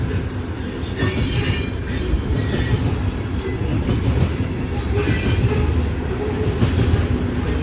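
A train rolls through the Lincoln Street grade crossing in Tullahoma, Tennessee, with the crossing bell not working: loud, continuous rumble of passing railcars with wheel squeal and rhythmic clatter, close by, no bell heard.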